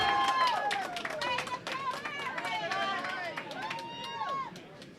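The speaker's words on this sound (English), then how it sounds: "That latest applause courtesy of the Weber faithful." Spectators at the men's baker bracket final of the 2016 Hoosier Classic bowling tournament clap and cheer after a strike, lively crowd applause and chatter heard beneath a commentator's speech.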